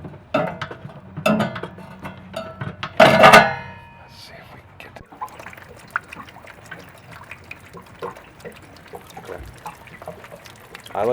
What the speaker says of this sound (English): you can see the water dripping out of it